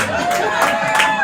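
A comedy club audience at Zanies in Chicago cheers and claps, a loud, short burst of whoops and scattered applause with voices rising over the clapping.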